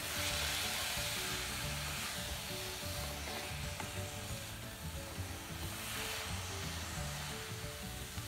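Grated bottle gourd halwa roasts in ghee in a steel pan over a low flame, a soft continuous sizzle with scraping stir strokes, fairly quiet and close.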